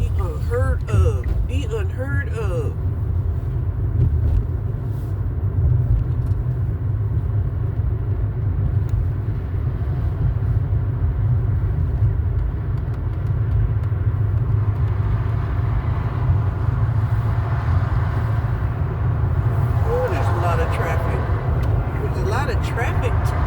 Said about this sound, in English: Traffic today.